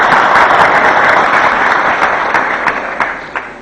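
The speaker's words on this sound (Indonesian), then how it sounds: "Tepuk tangan ini dari barat." A loud, dense burst of audience clapping at a religious halal bihalal gathering held at a foundation in Surabaya fills the space, then thins out near the end into a few scattered individual claps.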